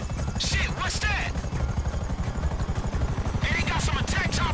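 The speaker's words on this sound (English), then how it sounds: "they got some attack choppers on you." Attack helicopters in the video game GTA V roar with a loud, steady rotor thrum throughout, while excited voices talk over the noise in short bursts.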